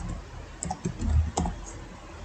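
Keystrokes on a computer keyboard while a database table query is typed, a scattered handful of soft clicks and taps with a couple of firmer presses, close and fairly quiet, no voice.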